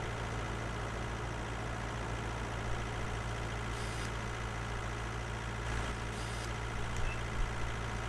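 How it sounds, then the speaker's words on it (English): A tractor engine runs steadily in Farming Simulator 19, a constant low drone with a faint higher whine, holding an even level throughout with only small bumps and no talking. "You see there the tractor working away nicely."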